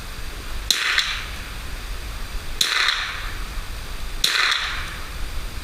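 Three sharp shots from a Ruger 10/22 rifle fired at a target outdoors, evenly spaced about two seconds apart, each a crisp crack with a short tail over a steady low background, no talking.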